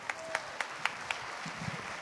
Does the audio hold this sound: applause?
yes